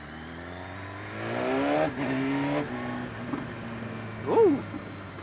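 A 2016 BMW S 1000 RR sport motorcycle engine idles, then revs up with a rising whine, its stock exhaust giving a brief crackle before settling back down.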